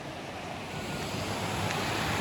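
Water from Paniyari Waterfall in Banaskantha rushes in a steady, dense roar as it flows on toward a lake, loud and continuous with no voices.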